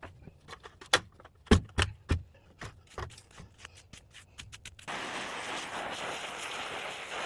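Snow is scraped and scooped off an old steam locomotive boiler's throttle in a run of separate clanks and scrapes, and then a steady rough rushing noise sets in as the lid is worked on. The sound is close and nobody speaks.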